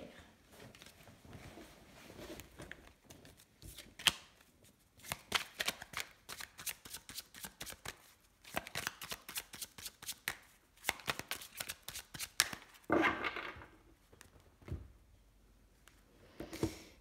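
Quick riffling and shuffling of tarot cards in repeated bursts, crisp papery flicks close by with short pauses between rounds.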